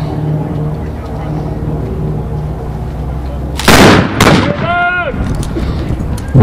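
Sharp gunshots at a WFDA cowboy fast draw shooting competition in Red River, New Mexico, ring out as a quick burst of two or three loud near cracks after a steady crowd murmur, followed by a brief tonal whistle.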